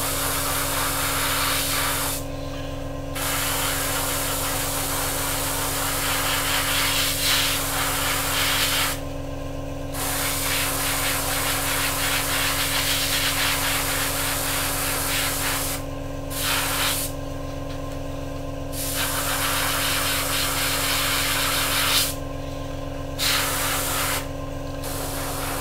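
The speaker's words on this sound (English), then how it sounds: "So the airbrush, as you can hear, is sort of struggling with it a little bit" Airbrush spraying paint onto a Revell 1/48 Typhoon FGR4 plastic model kit, a continuous close airy hiss broken by several short pauses, with a steady compressor hum underneath and no talking.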